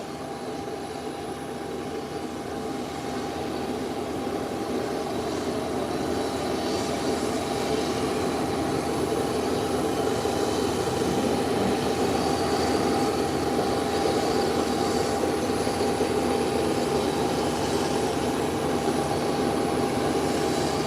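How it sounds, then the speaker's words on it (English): A Delta Airlines airliner sits on the taxiway, its engines giving a steady, continuous roar with a high whine. The noise holds even and moderately loud throughout, and no one speaks. "Delta Airline is now positioned at the taxiway"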